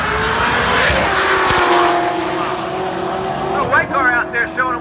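A Chevrolet Corvette ZR1 race car speeds past on a track with a steady engine roar that shifts in pitch, then brief tire squeals near the end, under people talking.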